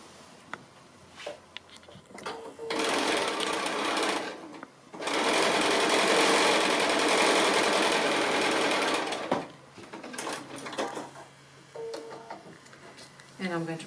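A domestic sewing machine stitches a fabric strip onto a simple square pin cushion, running in a long steady whirring burst with shorter bursts before and after, and a person speaks between runs.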